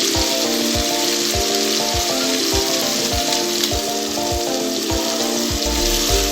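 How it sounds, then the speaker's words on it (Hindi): Chicken frying in a pan with haleem masala, a steady loud sizzle running throughout with regular periodic thumps and clanks, no voices. "चिकन जलने तक हमने चिकन को फ्राई कर लेना है"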